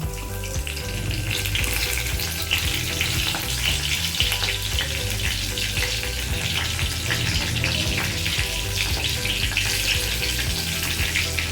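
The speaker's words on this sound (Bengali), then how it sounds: "এবার ফোড়ন দেব। জিরে, তেজপাতা," Cumin seeds and bay leaves tempering in hot oil in a kadai, a steady dense sizzle and crackle running continuously and fairly loud, with a low background hum.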